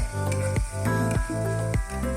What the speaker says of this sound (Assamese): বিলাহীখিনি গলালৈকে ভাজি ল'ব